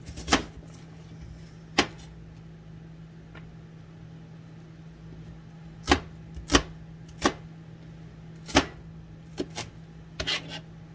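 A knife chops a bell pepper on a cutting board, giving sharp, loud, isolated thuds at irregular intervals, some single and some in quick pairs, over a low steady hum.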